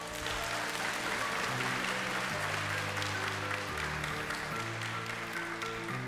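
Audience applause for finalists at a beauty pageant final, a faint, steady patter of clapping beneath sustained background music.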